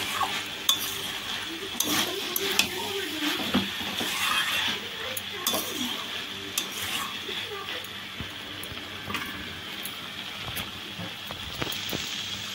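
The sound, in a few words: soya chunks being stir-fried without water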